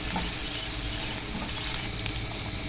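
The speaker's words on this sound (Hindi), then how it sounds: "ये 4 से 5 जवे हैं, इनको हम थोड़ा सा कुक करेंगे ताकि लहसुन का जो कच्चापन है ना ये ख़त्म हो जाए" Four to five garlic cloves frying in a pan for tomato chutney, giving a steady, loud, close sizzle with faint crackles and small pops throughout.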